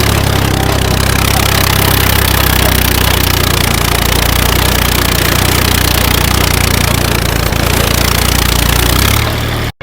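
A 1993 Massey Ferguson 1035 tractor's diesel engine runs steadily at close range for nearly the whole stretch, a loud, constant rumble with a low throb, cutting off abruptly at the end.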